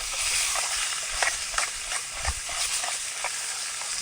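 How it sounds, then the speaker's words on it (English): Italian sausage frying in avocado oil, a dense steady sizzle with rhythmic scraping stirs across the pan, close and fairly loud. "Now I'm going to add my Italian sausage."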